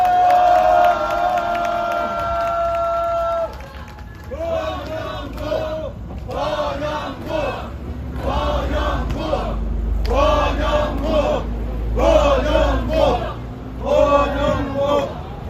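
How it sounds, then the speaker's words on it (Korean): Rally crowd for a Democratic Labor Party presidential candidate at an outdoor campaign stop near Gasan Digital, cheering and shouting in rhythmic bursts over a low rumble after a brief stretch of amplified tones. "후보를 힘찬 박수로 모시겠습니다"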